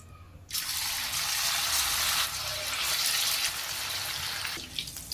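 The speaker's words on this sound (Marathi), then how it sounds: "आता आपण भजी सोडून देऊया एक एक।" Potato bhaji fritters fry in hot oil. The sizzle jumps to a loud, steady crackling hiss as they drop in, then tapers off near the end, with no one talking.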